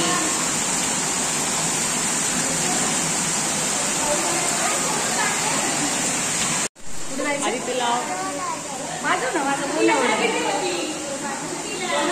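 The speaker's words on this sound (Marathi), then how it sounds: "तुफान पाऊस पडतोय एकदम जोर से." Heavy rain pours in a dense, continuous hiss that fills the first half. After a brief cut, the downpour carries on beneath people talking.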